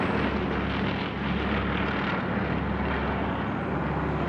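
Grumman Tracker, a piston-engined Royal Australian Navy anti-submarine aircraft, flies past at an RAAF anniversary airshow, its steady, loud propeller drone filling the air without pause.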